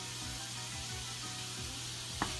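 Lamb and rice mixture with vegetables and Mediterranean spices sizzling in olive oil on a stovetop, a steady close frying hiss with a few soft stirring knocks and one brief clatter near the end.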